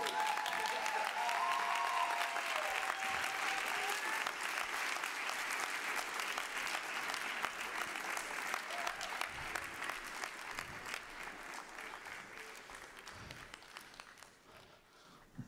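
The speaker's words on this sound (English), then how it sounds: "keep clapping. Keep clapping as they come." Crowd clapping at a live gospel concert in Novara, a dense sustained roar of applause that starts loud and slowly thins toward the end, with scattered individual claps becoming audible.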